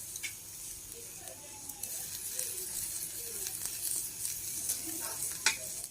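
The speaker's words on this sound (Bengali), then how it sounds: "কত সুন্দর মাংসটা হালকা হালকা পুড়ে যাচ্ছে আর মাংস থেকে তেল ছেড়ে দিয়েছে" Marinated chicken pieces sizzling and crackling in oil as they roast and char, a steady close hiss with small scattered pops and occasional stirring scrapes.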